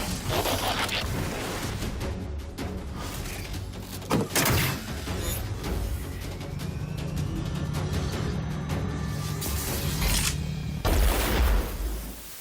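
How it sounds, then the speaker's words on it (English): A Transformers Cybertronian blaster cannon fires in an action scene, dense and rumbling throughout, with heavy booming blasts standing out around the middle and near the end. "He is a Cybertronian blaster cannon, which is amazing to see this in action."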